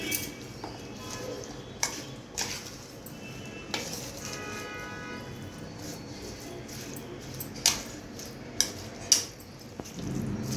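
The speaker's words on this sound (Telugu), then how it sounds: "కీరా ముక్కల్ని ఒకసారి కలిపేసేసుకోండి మొత్తం" Cucumber pieces for a mustard pickle being tossed in a bowl with a spoon, giving soft wet squishes and scattered clinks of metal on the bowl, close and fairly quiet.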